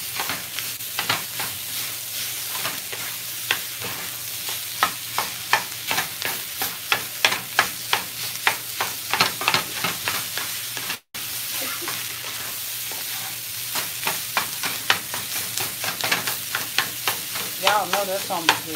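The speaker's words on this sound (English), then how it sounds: "I'm going to go ahead on and add that ground beef right on in here as well." Ground beef fries and sizzles in a pan while being stirred, a steady hiss punctuated by frequent scraping and clacking strokes of the utensil, close and continuous throughout.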